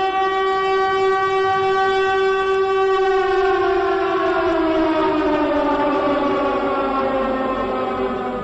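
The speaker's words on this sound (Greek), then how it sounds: "η Κύπρος ξύπνησε με τους ήχους των σιρήνων πολέμου" War air raid sirens sound over Cyprus at dawn on 20 July 1974 as the Turkish invasion begins; a loud sustained wailing tone holds steady, then slowly falls in pitch, alone without speech.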